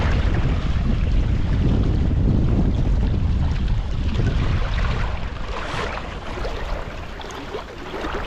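Strong wind roars steadily into the microphone, buffeting loudly throughout, with rushing river water beneath it.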